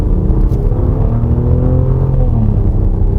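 A 2018 Maserati Levante V6 SUV pulls away on a winding road, its engine rumbling loud and close with rising harmonic tones as it accelerates steadily throughout, no voices present.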